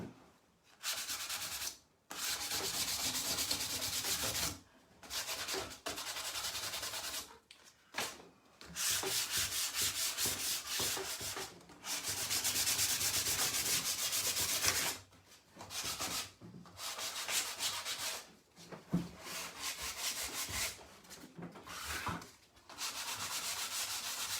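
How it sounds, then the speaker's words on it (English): Hand-sanding the edges of a crackle-painted wood piece, close and loud scratchy rubbing in repeated strokes of varying length separated by short pauses. "I almost want to sand my edges just because"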